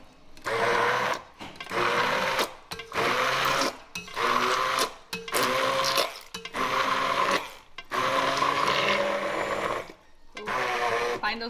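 A hand blender purees yuca in repeated whirring bursts, about eight pulses of a second or so with short gaps between, loud and close.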